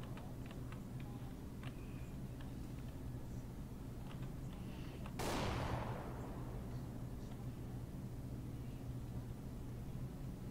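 A sudden sharp burst cuts through a steady low game rumble, a single loud CS:GO flashbang bang with a bright hissing tail that fades over about a second.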